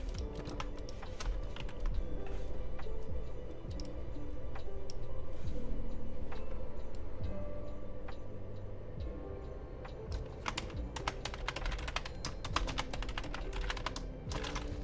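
Rapid computer keyboard typing in bursts, close and fairly quiet, with clustered clicks, a pause mid-clip, then a busier flurry of keystrokes toward the end.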